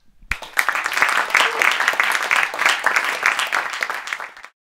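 An audience claps for an indie band at a Rochester music spotlight: dense, steady applause starts abruptly, holds at an even level for about four seconds, then stops sharply.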